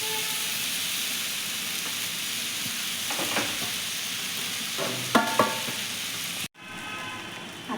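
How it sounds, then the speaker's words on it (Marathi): Rice tossed and stir-fried in a hot pan for egg fried rice, a steady loud sizzle with scattered clinks of the spatula, cutting off abruptly near the end. "आता आपण त्यामध्ये हा राईस आहे तो घालून घ्यायचा आहे।"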